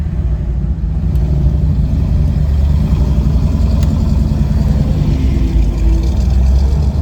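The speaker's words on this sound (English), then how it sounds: "I believe that was a third gear start." 1970 Dodge Challenger T/A pulling away from a third-gear start, a loud, steady low engine rumble heard close from inside the car, building slightly with no talk.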